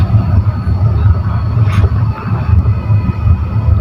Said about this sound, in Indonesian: Kereta api komuter lain Supas berhenti di stasiun Pasuruan kurang lebih cuman 20 menit untuk memutar